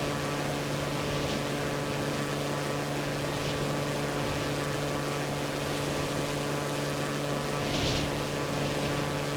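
A motorboat in Far Cry 2 cruises across water with a constant, even engine hum and steady tonal drone, plus light splashing and wash, with no voices over it.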